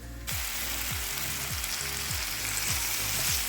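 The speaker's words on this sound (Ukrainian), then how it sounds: "А поки цибулька з грибочками смажиться" Onions and mushrooms sizzle steadily and loudly in a hot pan, with repeated scraping strokes of stirring every half second or so.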